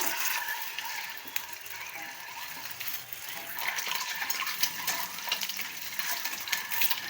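Boiled eggs fry in hot oil with masala, sizzling steadily at low volume while they are turned and stirred in the pan, with faint scraping clinks scattered throughout.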